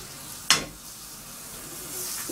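A knob of butter hits a hot pan with a brief sharp crackle, then settles into a soft, steady sizzle, close and low in level.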